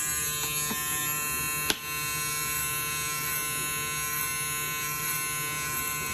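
A close, steady electric buzz from a hair trimmer on an Elite Clipper Mod Stinger bracket runs without pause, interrupted once by a brief click.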